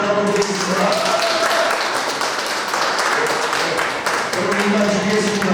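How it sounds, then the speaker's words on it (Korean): An audience at a land compensation committee meeting near Pyeongtaek Jije Station, attended by a National Assembly member, breaks into sustained, dense applause, with voices mixed in throughout the clapping. "박수 한번 부탁드리겠습니다."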